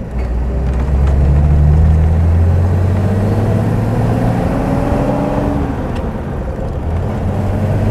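A 1938 Mercedes 320 Cabriolet A pulls out onto the road, its engine loud and close with a steady low drone and slowly rising tones as it gathers speed.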